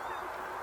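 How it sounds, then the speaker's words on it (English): Geese honking at a marsh nature reserve, a steady hum of calls carrying across open water alongside cormorants, moderately faint and continuous with no talk. "there's geese, some cormorants"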